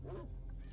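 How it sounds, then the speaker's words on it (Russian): Dogs in S.T.A.L.K.E.R. Shadow of Chernobyl give a brief yelping bark with a whine, fairly close, over a low background hum, with no speech. "Собачатки."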